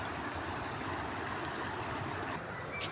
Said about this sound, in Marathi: आमच्या विहिरीतील पाणी अशा प्रकारे ओढ्यामध्ये जाते